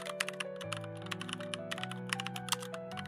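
Rapid keystrokes on a computer keyboard as a text prompt is typed, a quick uneven patter of sharp clicks sitting over quiet background music.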